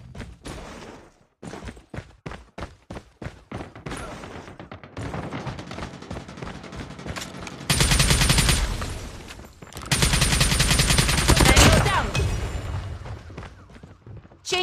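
KN-44 rifle gunfire in a video game: a string of sharp single shots, then dense rapid-fire bursts that swell into two long, loud sustained volleys, with no talk.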